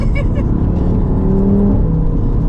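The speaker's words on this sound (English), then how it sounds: "It's popping." A 460 bhp stage 2 Audi RS3 8P accelerates hard, its exhaust drone rising in pitch from inside the cabin, loud and close, with occupants talking over the engine.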